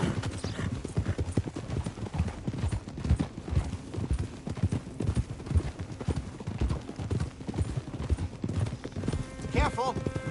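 Horse hooves clip-clop steadily in a PS4 video game, a continuous rhythmic trot heard under game voices and ambient noise, with a brief whinny near the end.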